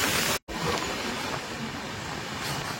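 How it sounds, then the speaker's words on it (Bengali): A train pulling into Malda station gives a steady, broad rumble of wheels and carriage noise, with a brief dropout near the start. "আমাদের ট্রেন এখন ঢুকছে মালদা স্টেশনে"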